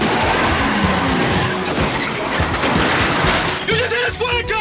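A car skids hard in an action film scene and crashes into a police car, with tire squeal, roaring engine and crunching impact noise sustained loudly throughout, close and dense.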